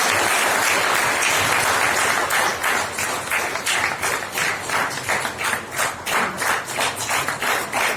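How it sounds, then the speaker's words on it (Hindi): An audience at a Mahatma Phule Jayanti ceremony applauds, dense clapping that settles into a steady rhythmic unison clap, loud and continuous throughout. "तालियां रुकनी नहीं चाहिए।"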